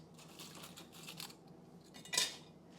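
Light, brittle pieces of dried sweet potato clatter and tinkle into a half-gallon glass jar, a scattered run of small clicks ending in one brighter clink.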